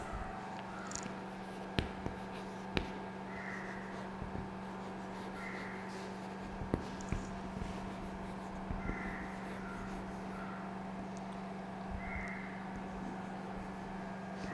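Writing on a board in a secondary school English lesson: faint scratchy strokes in short bursts with occasional sharp taps against a quiet room hum.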